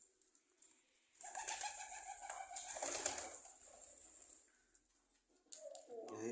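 A domestic pigeon coos softly beside its cage, with a few low, rolling calls at close range, then a brief rustle near the end.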